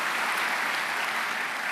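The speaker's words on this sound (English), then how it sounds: "Let's give yourselves a round of applause." Conference audience applauding, an even, continuous wash of many hands clapping, moderately loud and somewhat distant, with no speech over it.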